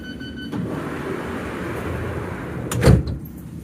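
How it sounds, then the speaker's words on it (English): A London Underground District line train's doors slide shut under a steady hum of the carriage, ending in a loud thud near the end. "Stand clear of the doors, mind the closing doors"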